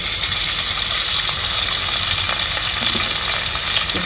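Cooking oil hisses and sizzles loudly and steadily in a hot pan, a continuous frying crackle with no break, as the base for a Bengali hilsa fish korma with ginger-garlic paste, green chilies and onion.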